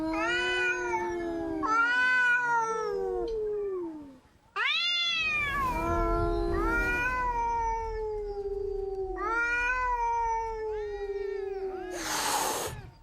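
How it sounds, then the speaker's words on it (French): Several cats fighting on an island yowl and caterwaul in long, rising and falling wails, trading cries back and forth with a short hiss-like burst near the end. "Les bagarres entre chats sont fréquentes et l'île résonne de leurs cris déchirants."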